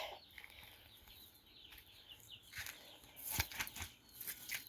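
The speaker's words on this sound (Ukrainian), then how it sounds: "Ці курчата вже попідростали." Young chickens cluck softly at a distance, with a few sharper calls and wing flutters toward the end, over a faint outdoor background.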